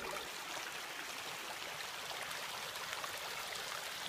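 Water rushes steadily through a hydro system pipeline, a faint, constant broadband hiss with no breaks or talk over it.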